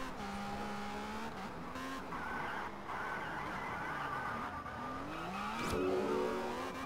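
A Lamborghini Murcielago races through Test Drive Unlimited, its engine droning steadily with rising and falling pitch as it accelerates and shifts, tires squealing briefly near the end, with no talking.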